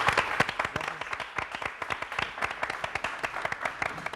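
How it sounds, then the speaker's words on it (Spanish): Applause from a small studio audience on a breakfast talk show, a lively patter of clapping hands close by, fairly even and continuous over a few seconds with no talking. "Un aplauso aquí a mis chavos"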